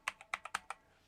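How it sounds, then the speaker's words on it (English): Six quick clicking keystrokes typed on a computer keyboard while entering a search term in Daz Studio software, close and crisp, ending in a brief quiet pause. "And now I could type in Omni"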